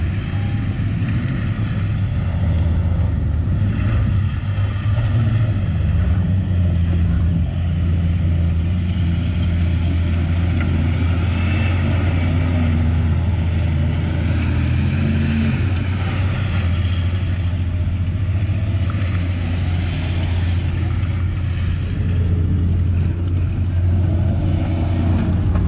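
A four-wheel drive vehicle stuck on a dirt trail in Azusa Canyon drones with a loud, sustained low engine rumble that rises and falls slightly as it revs for traction, close by throughout.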